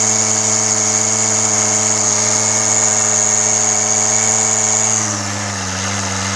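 A brand-new Kobalt 24V string trimmer motor whines steadily and loud, then sags and drops in pitch near the end as it cuts out, alone with no voices.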